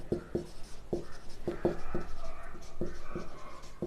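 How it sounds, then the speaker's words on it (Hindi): Marker or chalk strokes on a classroom board during a lesson on sets, with a series of distinct taps and short scrapes at an uneven pace, close and moderately loud. "तो यहां पे हम थोड़ा लिख लेते हैं"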